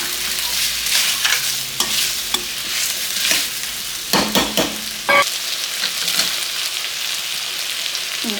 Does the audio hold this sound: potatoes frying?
yes